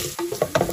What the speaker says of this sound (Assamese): পিঁয়াজখিনি ধুনীয়াকৈ ভাজি আছোঁ